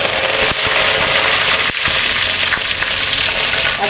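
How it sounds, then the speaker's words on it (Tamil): Curry leaves crackle and sizzle in hot oil for a roadside-style Puducherry veg salna, a loud, dense, continuous frying hiss with sharp pops throughout. "இப்போ கருவேப்பிலை போடலாம்."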